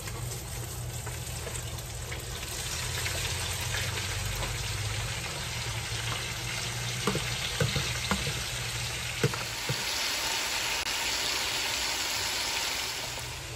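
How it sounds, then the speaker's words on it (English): Onions and peppers fry in sausage drippings in a crowded pot, making a steady, dense sizzle with a few clicks from stirring. "I'm going to cook the onions and peppers right here in the same sausage drippings."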